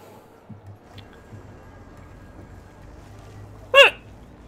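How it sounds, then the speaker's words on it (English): A single sharp hiccup bursts out near the end, loud and sudden against a quiet, low background hum. "I have random hiccups sometimes."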